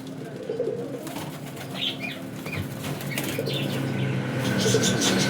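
Pigeons at a loft flap their wings in repeated bursts, near and fairly loud, over steady outdoor background noise with a few faint calls.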